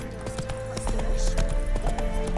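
Hooves of Roach, a horse in The Witcher 3 video game, trot in a steady clip-clop rhythm that grows louder midway, with a faint voice over a low rumbling game background.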